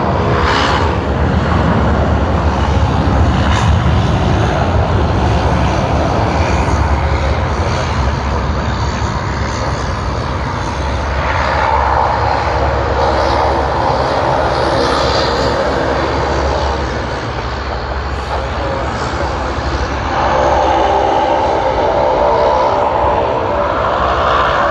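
An Airbus A330-200 at Sydney Airport, on a Sydney to Brisbane service, gives a steady loud engine roar with a broadband rumble that swells and eases over about twenty-five seconds.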